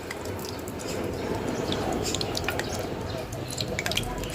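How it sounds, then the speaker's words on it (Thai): Hot oil bubbles and sizzles around wooden chopsticks dipped into it before frying chillies, making a continuous close crackle with fine popping drips, and someone speaks over it. "ถ้าเกิดมันมีฟองอากาศขึ้นมารอบๆตะเกียบไม้แล้วค่ะ อันนี้น้ำมันร้อนใช้ได้แล้วนะคะ"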